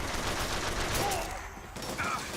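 Carbine gunfire in the video game Bioshock Infinite, a short burst of shots over a dense, noisy game battle backdrop, with a brief lull before more firing.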